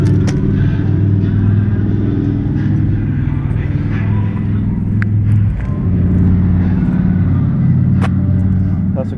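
KTM 1290 Super Duke fitted with an Austin Racing exhaust, heard inside a tunnel: a loud, continuous deep engine rumble with reverberant low-end, steady throughout with slight swells, and no talking.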